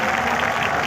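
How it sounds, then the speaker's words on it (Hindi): An audience at a large poetry mushaira at the Expo Center in Karachi breaks into dense, continuous applause, loud and close, lasting through the whole brief moment. "भरपूर तालियां"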